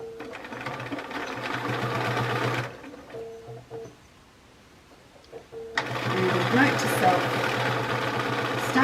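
A domestic sewing machine runs zigzag stitches in two steady bursts separated by a pause, close and clear, with a faint voice in between.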